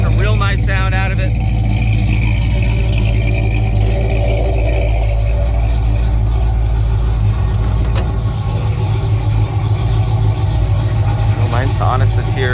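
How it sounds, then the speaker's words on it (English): A 1955 Chevrolet Bel Air with a fresh 355 V8 and Flowmaster exhaust idles close by, giving a steady, deep, even rumble that holds throughout with no break. "It's got 308 gears, traction bars, Flowmaster exhaust. Real nice sound out of it."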